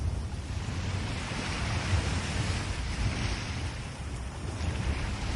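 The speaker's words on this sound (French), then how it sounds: "vous avez peut-être envie de tendre la main vers ces vagues qui vous attendent, qui vous accueillent" Sea waves wash onto the shore with a steady, broadband surf roar and some wind noise, continuous and fairly close throughout, with no voices.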